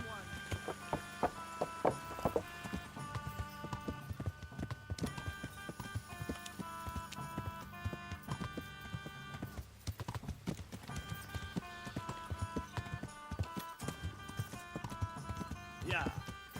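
Rapid, steady clip-clop of horse hooves in Kingdom Come: Deliverance 2 runs under busy game music and sound effects, with a brief whinny and voices talking throughout.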